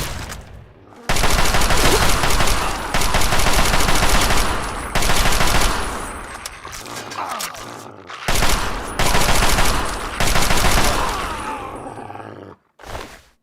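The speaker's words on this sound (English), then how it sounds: "let's switch to the Chinese assault rifle" Sustained automatic fire from a Chinese assault rifle in Fallout 3, loud dense bursts with short breaks and a growling creature roar mixed in.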